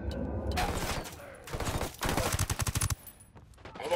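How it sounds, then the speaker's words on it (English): Gunfire in the tactical shooter Ghost Recon Wildlands: loud, close automatic bursts with a rapid, evenly spaced stutter of shots, separated by short pauses and ending in a final sharp volley. "I'm opening fire on these shitheads."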